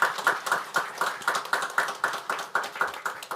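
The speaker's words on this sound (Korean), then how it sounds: "박수하겠습니다" A church congregation claps together at a Christmas morning service, producing a steady rhythmic run of crisp, evenly spaced claps close by.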